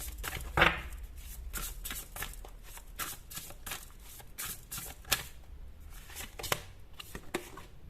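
Tarot cards slid and drawn from a deck one at a time, making soft repeated flicks and papery rustles at close range, with a few sharper snaps.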